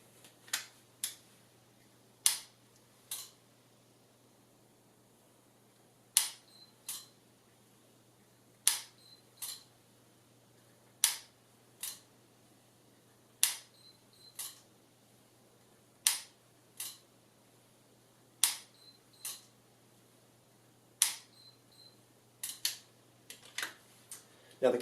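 Dry-fire trigger clicks of a single action gun loaded with a laser training cartridge: a long series of crisp, isolated metallic clicks, spaced a second or two apart, in a quiet room.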